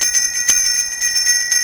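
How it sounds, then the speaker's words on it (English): A bright bell rings repeatedly with a sustained metallic shimmer, a quick series of close, loud strikes whose tones ring on, with no voices over them. "You can push the notification bell and I will ring it"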